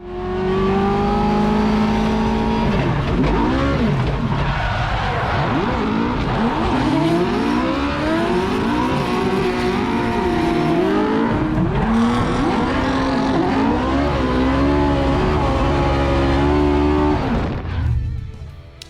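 A BMW E36 drives hard on a race track, its engine revving up and down through gear changes with some tire squeal, loud and close for most of the stretch before cutting off near the end.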